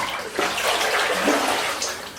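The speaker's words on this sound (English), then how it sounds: "I'm also putting a little bit more natural water into the wetsuit." Open water sloshes and splashes close by as it is let into a wetsuit by a swimmer in cool water. The watery gurgles come in a few soft surges with no talking.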